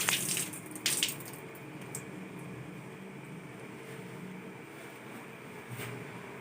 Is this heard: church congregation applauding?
no